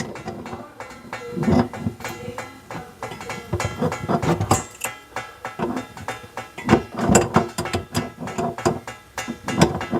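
A ratchet wrench undoes the fitting on a one-hole bathroom faucet, clicking in rapid, uneven bursts of metallic ratcheting at close range.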